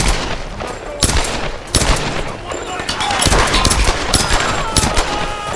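Rapid machine gun fire in the video game Tomb Raider (2013), loud, dense bursts of shots with sharp cracks and explosive booms overlapping across the whole stretch.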